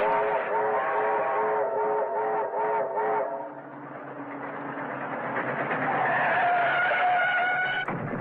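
Cars race alongside a train with loud, sustained tire skids and squealing engines, while a train whistle rises in the later part over continuous rumbling motion.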